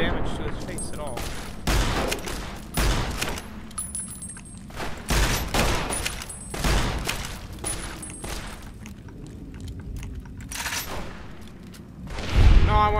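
Gunfire in the video game Fallout: New Vegas, a series of loud sharp shots arriving in irregular bursts with quiet gaps between them, and a voice talking in places.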